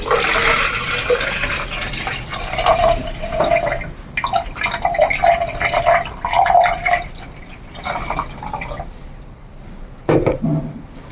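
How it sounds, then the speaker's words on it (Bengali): Ordinary household tap water is poured into a container to make white phenyl cleaner, a close, splashy gush that rises and falls in bursts before trailing off. "আমি এটা তৈরি করার জন্য নিয়ে নিচ্ছি প্রথমে জল, একদম নর্মাল জল আমরা যেটা বাড়িতে ইউজ করি"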